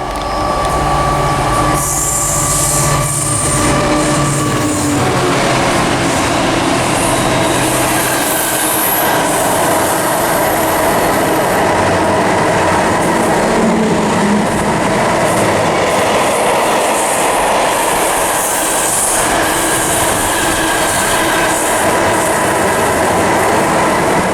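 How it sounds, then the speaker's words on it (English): A freight train passes through Bristol Parkway station on the Great Western Main Line, a loud, continuous rumble with steady clickety-clack of wheels on rail and occasional high wheel squeal, sustained close by throughout with no talking. "coming through now, we've got a freight lashing its way through"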